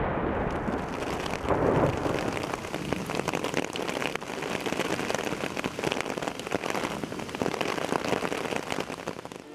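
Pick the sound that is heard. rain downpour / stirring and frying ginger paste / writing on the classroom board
rain downpour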